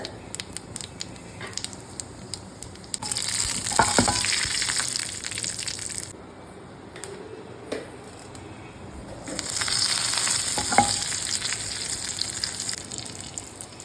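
Mustard seeds fry in oil for an onion theeyal, a soft simmering hiss swelling twice into loud crackling bursts of popping seeds, close up with no talk.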